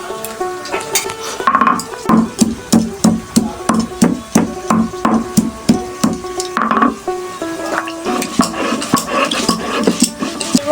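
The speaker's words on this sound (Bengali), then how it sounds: "আমি এখন আদা বেটে নেব" Ginger is ground by hand on a grinding stone, with steady rhythmic scraping strokes repeated about twice a second, close and fairly loud, with a brief pause midway before the strokes resume.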